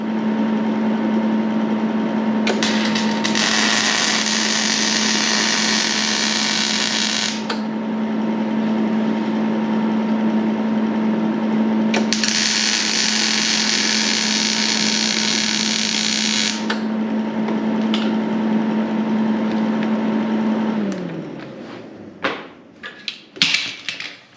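Welding a bead onto an adapter for a KA Tools KT-2002 tire machine: two sustained bursts of crackling, hissing arc noise, each about five seconds, over a steady electrical hum that winds down at the end, followed by a few scattered clanks.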